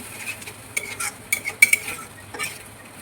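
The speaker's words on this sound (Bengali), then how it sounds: "এবার দিয়ে দেবো টমেটো পেস্ট মিশিয়ে নেব সবগুলোকে" A spoon scrapes and clinks in a pan as tomato paste is worked into a spiced fish mixture, a few sharp metallic taps and stirring strokes over a faint low sizzle, with no voices.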